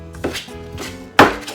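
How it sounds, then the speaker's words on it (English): A knife chops shaved ribeye steak into smaller pieces on a cutting board, three dull thunks, the last one loudest, with soft scraping between them and no talking. "I'm just basically shaving it up in smaller pieces"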